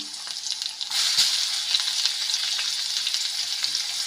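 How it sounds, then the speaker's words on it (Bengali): Chopped medium-sized onion hits hot oil over a high flame, setting off a sudden loud sizzle that settles into a steady, bright frying hiss with faint crackles. "এখন দিয়ে দিলাম একটা মাঝারি সাইজের পেঁয়াজ কুচি হাই ফ্লেমে পেঁয়াজটা একদম গোল্ডেন করে ভেজে নেবো"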